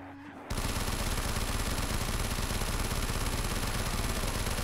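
Rapid, continuous automatic gunfire in the video game Call of Duty Black Ops 3 Zombies bursts in after a brief quiet moment and hammers on loud and unbroken to the end.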